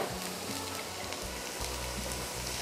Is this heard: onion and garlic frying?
yes